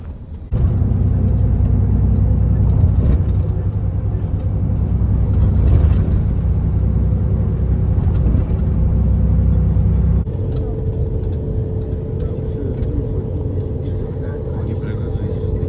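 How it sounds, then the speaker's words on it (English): On board a coach bus travelling nonstop for three hours to Amsterdam on a rainy day, a steady loud low engine rumble and road drone fill the cabin, shifting to a slightly different tone partway through, with faint voices underneath. "So I am on board the coach, and then it's 3 hours all the way to Amsterdam."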